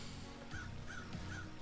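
In the video game Paradise Killer, near the council building, crows give three evenly spaced caws over a constant low ambient drone, fairly quiet in the mix.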